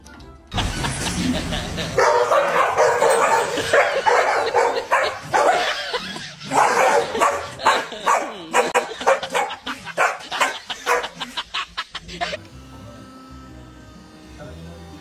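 A dog barks in a rapid string of loud, close yips and bow-wows, with some whimpering mixed in, continuing for most of the stretch before stopping abruptly.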